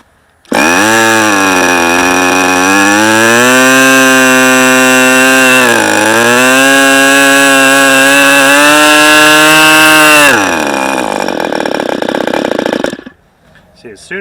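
A Fox 45 model aircraft engine runs loud and close with a high buzzing whine that shifts pitch slightly as the throttle changes, then falters and dies at full throttle near the end.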